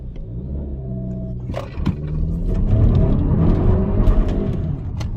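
A 2020 Kia Optima SXL launches from a brake-boost start, its engine rumbling and then building into a rising, revving acceleration heard up close from inside the car.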